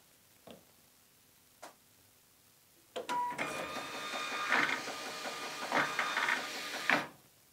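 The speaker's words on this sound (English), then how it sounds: "The printer will now print a configuration label." A Zebra ZT411 industrial barcode printer clicks twice, then runs a configuration label through with a steady mechanical whir and buzzing feed noise for about four seconds before stopping with a final clunk.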